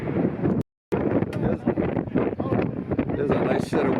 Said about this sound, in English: I can see the wind is already kicking up here